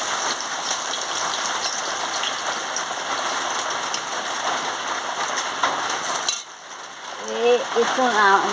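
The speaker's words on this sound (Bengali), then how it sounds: "দিয়ে রসুন আর শুকনো লঙ্কাটাকে ভালো করে ভেজে নিচ্ছি" Garlic and dried red chilli fry in hot oil for a potato, pointed gourd and ivy gourd chorchori, a dense, steady rain-like crackle for about six seconds, then it drops away to quieter sizzling.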